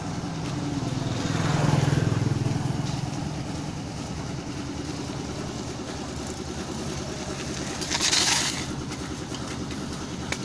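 Engine noise from a vehicle in a cycle racing video game, a steady mid-pitched drone that swells briefly near the start and again later, with no talk over it.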